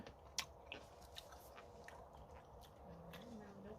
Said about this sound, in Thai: ชิมมะเขือเทศเลยนะคะ ที่เก็บมาด้านหลังนะคะนี่